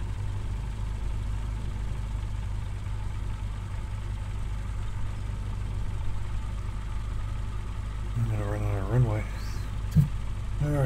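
An aircraft engine in Microsoft Flight Simulator 2020 drones steadily with a low, constant hum during a bush trip over Nevada, and a voice speaks briefly near the end.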